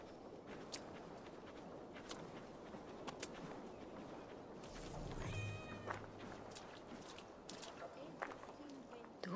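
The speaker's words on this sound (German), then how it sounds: "Du bist ja eine schöne Katze." A cat meows once in the video game Assassin's Creed Valhalla, a short, moderately close call amid game ambience and light footsteps, with talking around it.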